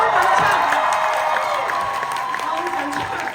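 An awards ceremony audience claps and cheers in a large hall, a dense wash of applause with scattered whoops that stays steady and fairly loud across the whole stretch.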